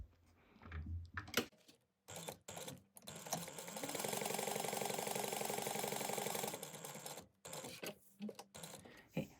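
Sewing machine stitching the side seams of a sling backpack at a 3/8 inch seam allowance, a steady whirring run of about three seconds framed by short bursts and clicks, quiet and close.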